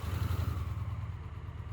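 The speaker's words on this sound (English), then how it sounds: "Now, start the engine." An Indian Roadmaster Powerplus motorcycle engine, started in neutral, settles into a close, steady low idle with a throbbing, lumpy rumble and no talk over it.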